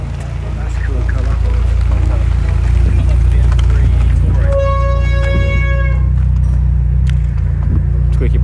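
A car's brakes let out a high, tonal squeal for about a second and a half, then a brief second squeak, over a loud low engine rumble while people talk nearby.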